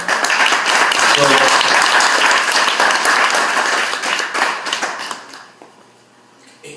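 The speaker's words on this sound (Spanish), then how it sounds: "Dale un aplauso al Señor." A church congregation applauds the Lord together, a dense, steady wash of many hands clapping loudly at close range, thinning and fading out toward the end.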